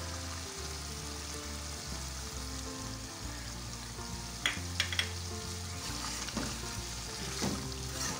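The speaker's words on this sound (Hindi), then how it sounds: "तीन से 4 मिनट इसकी भुनाई करते हैं।" Spices and roasted ground cumin fry in a beef stew pot, giving a continuous close sizzle and bubbling with a few sharp stirring clinks partway through.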